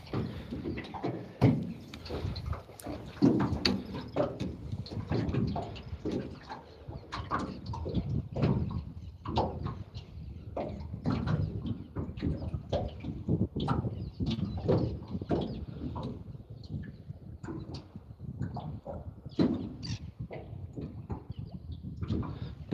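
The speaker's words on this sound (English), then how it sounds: "Birds are taking off back over by the farm there." Birds take off near a farm, a scatter of soft fluttering wingbeats and faint calls spread over several seconds, fairly distant outdoors and with no one speaking.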